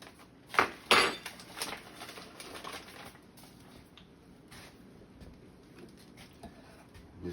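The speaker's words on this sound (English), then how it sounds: "Just mix that all around." Cornbread batter stirred in a bowl with sugar in the mix: two sharp utensil scrapes and clinks near the start, then a softer scraping that fades to quiet, close by and with no talk.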